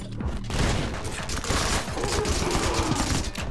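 SMG fire from the video game Anger Foot, with dense, loud bursts of rapid shots and booming impacts rattling almost nonstop through the whole stretch, no voices over it.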